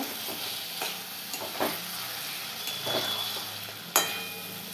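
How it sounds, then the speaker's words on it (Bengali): Potatoes fry in a spiced masala in a pan, making a steady, moderate sizzle close by. Occasional sharper clicks and scrapes of stirring break through, with one louder knock near the end. "এই আলুগুলো দিয়ে দিলাম দেখতে পাচ্ছ"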